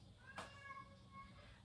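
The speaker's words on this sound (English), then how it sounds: "I don't know if you can hear my cat meowing in the background" A pet cat gives a short, faint meow in the background, a single tonal cry in an otherwise quiet room.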